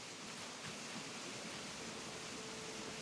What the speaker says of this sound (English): And then our other waterfall on the island